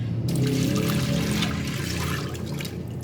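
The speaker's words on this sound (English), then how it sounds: "So I'm just going to put in the beans in the pot and put in the water." Water pours steadily into a pot of dry kidney beans, a continuous splashing rush that stays fairly loud and close throughout, with no voices.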